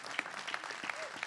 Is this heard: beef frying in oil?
no